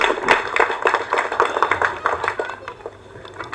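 An audience at an event for Ilaiyaraaja's film claps, with distinct, fairly close hand claps forming a brisk burst that thins out and fades toward the end.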